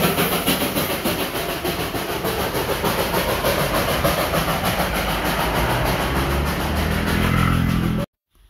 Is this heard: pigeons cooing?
no